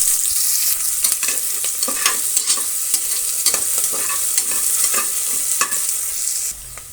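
Long-sliced onions frying with whole spices for a green pulao, stirred vigorously so a loud, close sizzle is broken by repeated scraping strokes of a spoon, with no voices.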